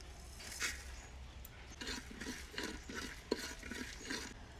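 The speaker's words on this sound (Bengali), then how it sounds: "ওই হাঁড়িতে কিছু শুকনো মশলা ভেজে নেব" Dry cumin, coriander and garam masala roast in a clay pot over a wood stove, a quiet run of rhythmic scraping strokes as a spoon stirs them, with a faint sharp clink partway through.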